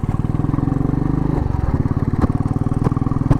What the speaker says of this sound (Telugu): నా బైక్ సస్పెన్షన్ టెస్ట్ చేయడానికి పెట్టినాడు ఇవి స్పీడ్ బ్రేకర్స్